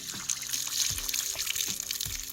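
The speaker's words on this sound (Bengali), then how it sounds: "পেঁয়াজ কলি, ধনেপাতা, পালং শাক আমি এখন ধুয়ে নেব" Fresh spinach, spring onions and coriander are washed by hand in water, giving close, soft splashes and trickling with light sloshing pulses at a steady rhythm.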